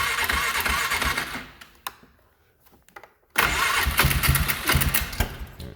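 A cold 2006 Polaris Sportsman 500 EFI ATV engine cranks and catches, a gap of near-silence, then a second start roaring up into a loud, steady rumble close by.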